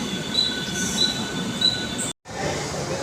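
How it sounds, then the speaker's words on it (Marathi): A train rolls in with loud, sustained metallic wheel squeals and rumbling, broken by a brief moment of silence before the noise resumes. "ट्रेन लागली आता"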